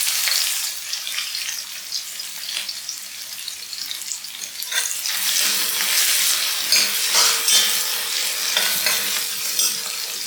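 Garlic frying in hot oil in a pan with chilies and curry leaves, a loud, close, continuous sizzle and spatter with no speech, growing slightly busier toward the end.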